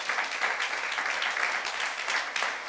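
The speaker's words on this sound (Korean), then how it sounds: "박수 하나 더 해주세요." A church youth congregation breaks into sustained applause, a dense, even clatter of many hands clapping throughout without pause.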